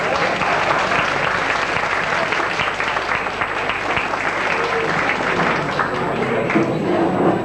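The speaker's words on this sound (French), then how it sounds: "Donc on peut les applaudir aussi." Loud, sustained applause from an evening audience welcoming Romanian guests, a dense crowd of clapping hands holding an even level for over seven seconds with occasional louder claps standing out.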